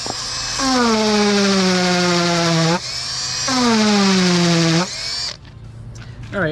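A power drill boring a hole whines loudly in two long bursts, each pitch sagging as the bit bites into the material, then cuts off and leaves a quieter gap and faint handling noise.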